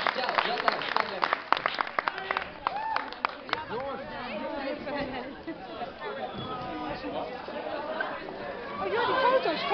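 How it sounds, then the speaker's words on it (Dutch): A school festival crowd at a prize-giving claps for the winners, scattered sharp claps early fading into loud chatter and babble of many young voices. "En voor nu wil ik gewoon knettergroot applaus voor deze gasten."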